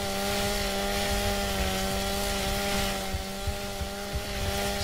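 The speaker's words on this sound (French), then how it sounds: "un coup de tronçonneuse dans le vide" A chainsaw revs into empty air in Gears of War Ultimate Edition, a loud sustained buzzing drone with steady engine tones that holds throughout, slightly wavering near the end, with no voices.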